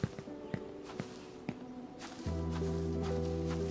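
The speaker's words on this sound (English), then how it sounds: "the footstep sounds are based on that data" Footsteps from a player walking across procedurally generated terrain in an Unreal Engine 5 game, a series of soft, evenly spaced taps that continue faintly under a steady low hum setting in partway through.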